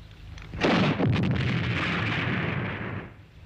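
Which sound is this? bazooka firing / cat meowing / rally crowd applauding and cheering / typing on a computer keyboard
bazooka firing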